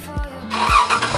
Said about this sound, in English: Now let us start the car.